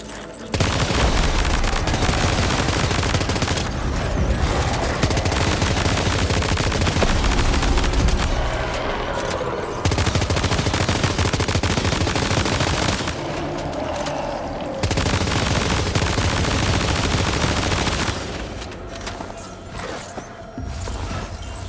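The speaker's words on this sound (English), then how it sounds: "Am I supposed to spawn this guy, or can I just start shooting at him?" Sustained video-game gunfire from Death Stranding 2, with dense automatic bursts and heavy booms filling the whole stretch at close range, broken by a few short lulls.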